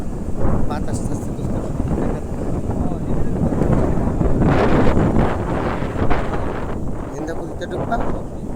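Strong gusty wind before a storm, roaring and buffeting loudly against the microphone in an open field, swelling and easing in waves, with people talking underneath.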